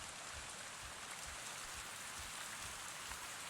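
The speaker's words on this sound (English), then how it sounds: "And it's raining." Rain falls in the video game Avatar: Frontiers of Pandora, a soft, steady hiss of drops on surfaces that continues evenly throughout with no voices.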